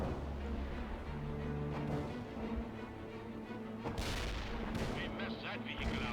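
Artillery and gunfire from a World in Conflict battle boom and crack in repeated bursts, with heavy explosions and rumbling combat noise under occasional voices.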